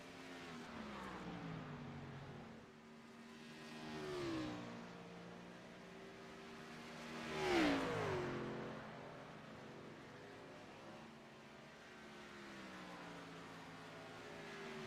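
Stock cars in a race drone around a track at a distance, engine notes rising and falling as packs sweep past, one car swelling louder near the middle before fading.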